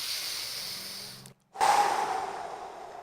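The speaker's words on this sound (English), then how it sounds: "take some deep breaths" Deep breathing, in through the nose and out through the mouth: a steady airy inhale fades into a brief silence, then a louder, rushing exhale follows. The breath is close and alone, with no talk.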